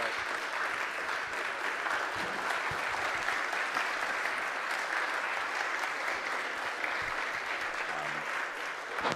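An audience at a talk in Charleston gives Dr. Michael Blakey a round of applause, dense, sustained clapping that holds steady and moderately loud throughout.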